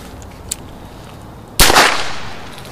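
A single sharp gunshot bang from an MP-313 Nagant signal revolver goes off nearby after a quiet stretch, its echo tailing off over a second.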